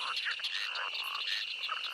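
Frogs croak as a sound effect in a fairy tale, a dense, continuous chorus of rasping, pulsing calls, steady and moderately loud over the full stretch, with no voices.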